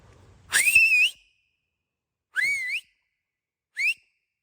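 Three sharp rising whistles to call a dog, the first longest, then two shorter ones spaced apart, clear and alone against silence.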